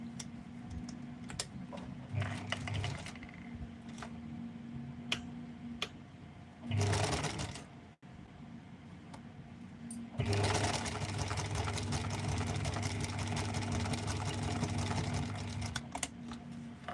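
A sewing machine stitches fabric along an edge in bursts, its steady mechanical whir running at a low level with short pauses and small clicks between runs.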